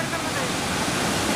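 Fast-flowing floodwater of the Pavana River in Pune rushes in a dense, continuous roar, loud and steady from start to end.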